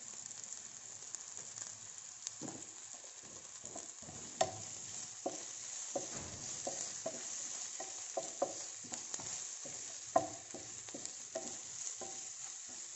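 Onions frying in a pan for sambhar until translucent: a faint, soft sizzle broken by frequent scraping strokes and light clicks of a stirring spoon, with no one speaking.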